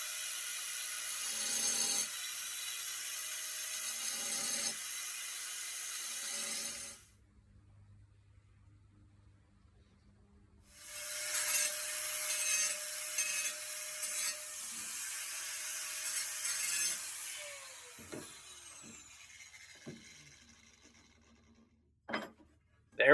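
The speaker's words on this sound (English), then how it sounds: "I just take little bites with the angle grinder, a little bit at a time, and go in a circular motion" An angle grinder nibbling at tile in small bites, a harsh high whine in two long passes separated by a quiet pause, ending with a few faint knocks.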